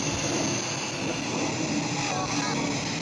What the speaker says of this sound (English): How's the aeroplane going over the top?